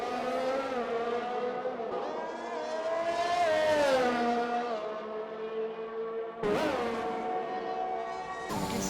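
A race car laps the Zandvoort circuit in a racing video game, its engine note loud and close, climbing and falling through gear changes with an abrupt shift near the end and no talking over it.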